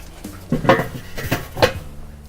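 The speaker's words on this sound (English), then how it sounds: "Just pop that lid back on." A metal lid clanks back onto a cooker holding pork belly burnt ends, with a few sharp, close clinks and rattles.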